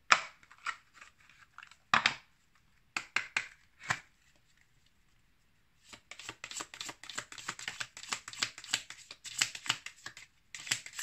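Oracle cards are shuffled in quick riffling bursts, a few short flurries separated by pauses, then a longer run of rapid papery flicks, close and fairly quiet with no talking.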